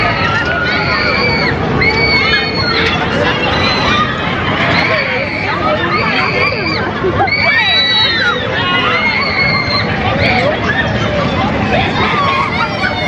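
Crowd screaming and shouting on a kamikaze thrill ride at a New Year's party, a loud dense wall of excited voices that never lets up.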